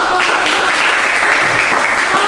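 A classroom audience applauds after a group's experiment presentation, giving dense, continuous clapping that stays loud and even from start to finish.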